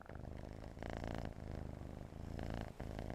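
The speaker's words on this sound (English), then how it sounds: "I hear a happy kitty." A cat in the game BitCraft Online purrs loudly and steadily, a dense rumbling purr up close that swells slightly in rhythmic waves with each breath, continuous for a few seconds with no talking.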